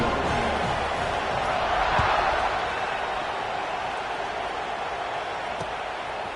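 A stadium crowd at a football game roars steadily before a kickoff, a dense continuous wash of cheering that swells slightly midway and holds loud throughout.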